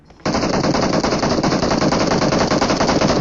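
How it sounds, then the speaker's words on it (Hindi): Cover fire from a teammate in the PUBG Mobile video game: sustained, rapid automatic gunfire that starts abruptly and rattles on loud and unbroken for about three seconds. "इतनी देर में मेरे टीममेट का अच्छा खासा कवर फायर आया था"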